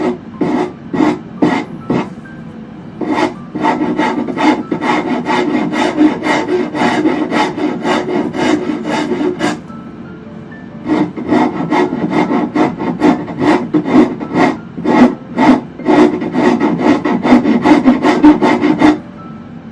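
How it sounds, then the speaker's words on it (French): Finishing rasp filing the wood of a handmade Windsor stool, close and loud, in two long bursts of quick repeated rasping strokes separated by a short pause. "Ça enlève pas beaucoup de matière, c'est plus une râpe de finition."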